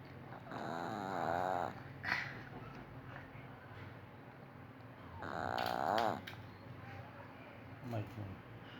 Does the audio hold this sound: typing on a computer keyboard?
no